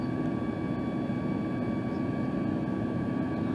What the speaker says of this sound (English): That was just an amazing takeoff.